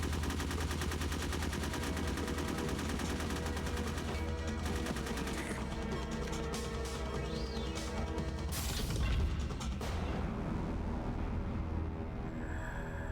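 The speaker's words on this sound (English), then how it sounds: "Why'd you shoot at me?" Gunfire in the video game Metal Gear Solid, rapid bursts of automatic shots running continuously for several seconds with a sharp crash near the end, fairly quiet and without speech.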